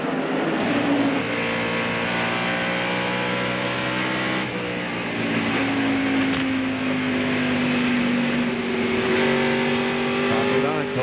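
NASCAR Busch Grand National race cars roar around the Nazareth track in 1997, a steady, dense wall of engine drone with shifting pitch as cars run nose to tail, continuous and loud.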